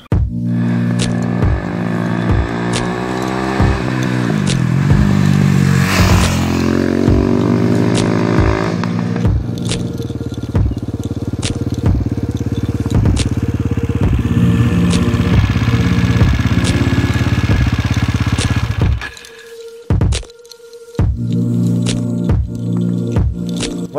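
KTM 640 LC4 single-cylinder motorcycle being ridden, its thumping engine loud and close with wind buffeting, shifting pitch as it accelerates and slows, dropping briefly near the end before resuming.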